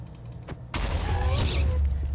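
A Ghast fireball blast in Minecraft, a sudden loud boom that cuts in partway through and rolls on as a broad rumbling roar, heard alone without talk.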